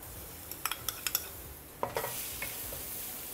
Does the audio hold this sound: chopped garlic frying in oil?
yes